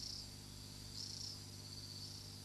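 Continuous high buzzing of male cicadas singing on a tropical rainforest night, swelling and dipping in pulses, faint and steady over a low background hum.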